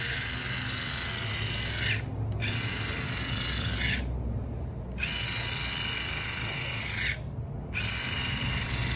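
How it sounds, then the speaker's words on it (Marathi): A split-end hair trimming machine runs steadily with a loud, close mechanical whirring and ratcheting buzz, broken by three brief pauses, with no talking. "लय आवाज करते ही मशीन."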